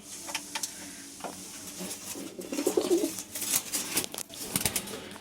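Pigeons in a loft give soft cooing calls under bursts of wing flapping and rustling, with scattered clicks and shuffles close by.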